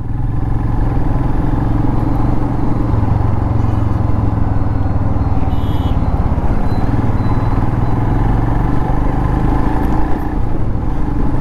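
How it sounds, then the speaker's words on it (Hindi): A motorcycle runs nonstop along an old highway on a long ride toward Rajasthan. Its engine drones loud and steady throughout, with constant road and wind rumble and no talk. "लो भाई आ गए हाईवे पे, अब नॉन स्टॉप दौड़ेगी अपनी बाइक।"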